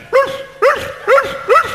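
A voice imitates dogs barking, four short, evenly spaced barks, close and fairly loud, with brief quiet gaps between them.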